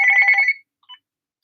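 An indoor telephone rings with a single electronic trilling burst lasting about half a second, close and clear, followed by a faint short chirp and then silence.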